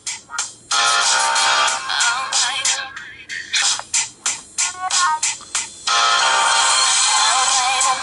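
A pop song plays at full volume through the loudspeaker of a Jiayu G4 smartphone, bright and thin-sounding with bursts of music broken by short drops and pulsing phrases throughout.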